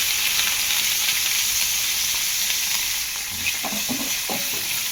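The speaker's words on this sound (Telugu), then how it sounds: "ఇది ఇప్పుడు తాలింపులో వేసేసుకున్నాం." Chopped coriander sizzling in hot tempering oil for a tomato chutney, a steady loud hiss of frying that carries on throughout, with a few faint stirring knocks near the end.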